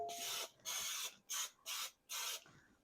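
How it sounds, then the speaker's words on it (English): Five quick hissing bursts of cooking spray onto bread baking pans in an even rhythm, close and fairly quiet, with short pauses between each spritz. "now I am supposed to spray my pans"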